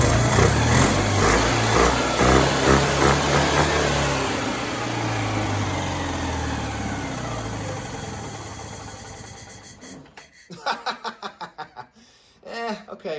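A Citroen 2CV engine with a single-barrel carburetor idles loudly and steadily, its throttle blipped and revved, then it drops to a sputtering, uneven idle with sharp intermittent bursts near the end.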